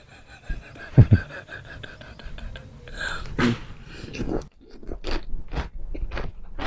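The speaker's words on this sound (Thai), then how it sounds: "กินข้าวด้วยกันนะครับ ตำแตงครับ" Crunchy Thai cucumber salad (tam taeng) being bitten and chewed up close, with a couple of sharp crisp crunches followed by steady wet chewing and a few short mouth sounds.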